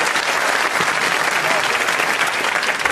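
A studio audience at a comedy music panel show bursts into loud, sustained applause mixed with cheers, dense and continuous throughout.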